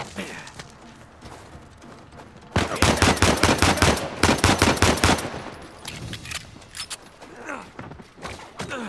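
In an Uncharted 4 firefight, a loud, rapid volley of gunshots erupts after a quieter start, keeps hammering for a few seconds, then tapers into scattered, fainter shots.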